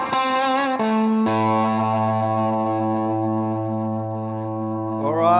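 An Artist LP60 electric guitar through a Tweedtone V amp plays heavily distorted, sustained chords with a short run of changing notes at the start, then one long ringing chord that swells and shifts at the end.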